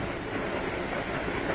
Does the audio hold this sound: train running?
yes